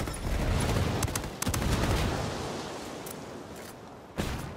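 Video game firefight with a frag grenade blast and rapid gunfire, dense and loud at first, easing off midway, then a sharp burst of shots near the end.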